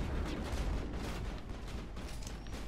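Strafing gunfire in the video game Mass Effect, a dense rumbling barrage of booming blasts and rattling fire that stays loud and continuous with no voices over it.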